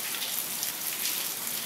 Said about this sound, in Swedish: det regnar faktiskt på andra platser också än i Sverige. Nu syns det ju inte så himla bra då. Men ni kanske hör.